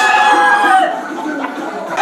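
A fighting rooster, one of a family's prized bred gamecocks, crows loudly and close by in a single long, ringing call that fills the whole moment, with faint background noise beneath it.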